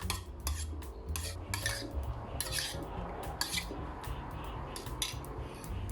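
Rapid rhythmic clicking of a utensil whisking eggs against a bowl, close up, in quick bursts with brief pauses, no talking.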